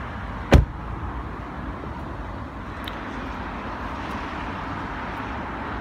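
Car door shut once with a short, solid thud at the start, then only a faint steady background hum of outdoor traffic.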